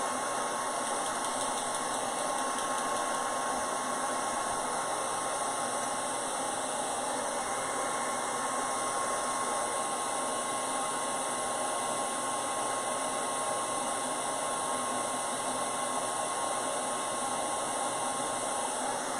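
A hair dryer blows steadily and loudly and close by, drying acrylic paint on a painted bunny-in-a-pot craft, its constant whooshing airflow and motor whine running unbroken with no talking.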